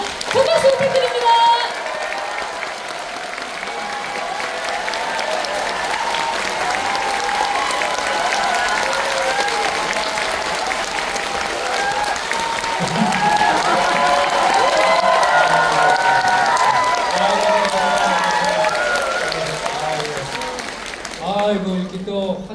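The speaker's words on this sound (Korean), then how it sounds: "여러분들의 뜨거운 박수로 모시겠습니다" An audience fills the third-floor main hall of the Yeongwol Culture and Arts Center at the Danjong Cultural Festival with sustained applause and cheering to welcome director Jang Hang-jun, loud and continuous, with voices heard through it.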